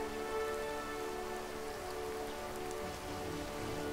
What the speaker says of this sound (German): Ja, es regnet.